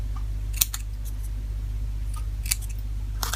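Scissors make a few quick, crisp snips through paper while cutting little toes into an animal corner bookmark, set against a steady low hum.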